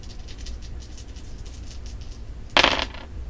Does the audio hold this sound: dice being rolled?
yes